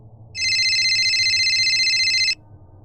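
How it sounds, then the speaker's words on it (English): A telephone ringing in an old hotel building with old wiring: one steady electronic ring lasting about two seconds, clear and alone against near silence. "the phone rang again."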